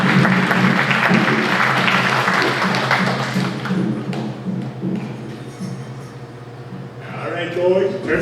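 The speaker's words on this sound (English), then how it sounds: "applause." Crowd applause at Danceland in Manitou Beach, Saskatchewan, greeting a young dancer, with dense clapping over a steady low hum and thuds, fading after a few seconds as a voice speaks and sharper sounds rise near the end.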